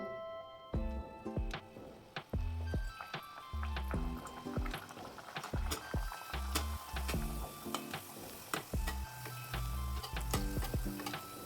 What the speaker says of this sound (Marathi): तर चला आता एक एक करून आपण पुरी तळून घेऊया.